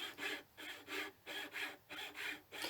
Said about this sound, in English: I could then trim the handle down to length.